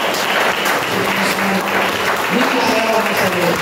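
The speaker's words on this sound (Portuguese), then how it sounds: "Vamos receber o servo do Senhor com uma salva de palmas para Jesus." A church congregation claps during a Wednesday worship service, a continuous roomful of hands sounding loud and close, with voices mixed in under the applause.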